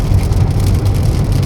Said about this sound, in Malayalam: അപ്പോൾ ചെറിയ ചാറ്റൽ മഴ പെയ്തു തുടങ്ങിയിട്ടുണ്ട്.